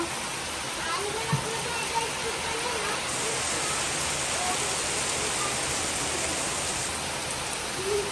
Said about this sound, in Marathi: केवढा मोठा पाऊस येतोय बापरे